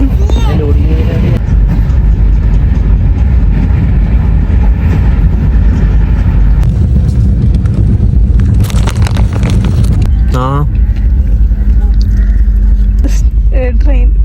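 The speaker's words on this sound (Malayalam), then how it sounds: "നമുക്ക് പോകേണ്ട ട്രെയിൻ ഇതാ വരുന്നു." A passenger train pulls into an Indian railway station on a long-distance Kerala-to-Delhi journey. It makes a loud, continuous rumble and clatter of rolling wagons that fills the whole stretch, with people talking nearby.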